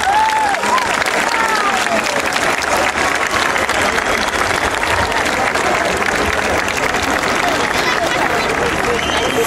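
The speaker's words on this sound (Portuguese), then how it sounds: "peço verdadeiramente o maior aplauso desta noite" Large crowd applauding loudly at an evening magic show in Alcobaça, a dense continuous roar of clapping with crowd noise and some cheering mixed in, filling the whole stretch.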